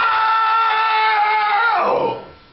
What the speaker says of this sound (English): Can you give me like a really big scream?